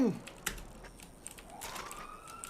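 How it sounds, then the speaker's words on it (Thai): Police siren in the video game GTA V, a faint rising wail that emerges partway through beneath clicky keyboard typing and sparse game sounds. "หวอมาแล้ว"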